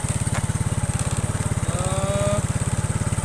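A Yamaha Mio scooter engine idles roughly and unevenly close up during carburetor adjustment, a steady fast pulsing thrum with a faint whine rising briefly midway.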